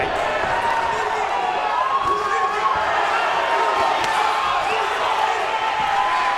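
An arena crowd at a boxing match roars and cheers steadily for DeAndre Ware in his fight against Vladimir Shishkin, a dense, continuous wash of noise.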